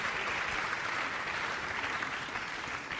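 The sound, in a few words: audience applause for award winners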